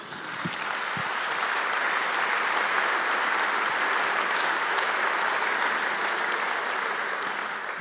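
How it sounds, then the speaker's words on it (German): An audience applauds Norbert Blüm with a continuous, even burst of clapping that swells quickly and holds steady to the end, fairly close and loud. "für die Sie auch jetzt viel Applaus erhalten"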